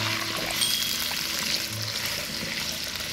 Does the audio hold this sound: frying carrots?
yes